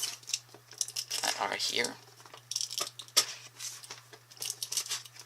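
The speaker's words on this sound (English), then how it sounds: "take my magical rainbow scissors here and cut the 4 pieces of tape" Rainbow-colored scissors snip through packing tape on a box holding a Samson Meteor microphone, giving several close, crisp cutting and tearing sounds while a person speaks over them.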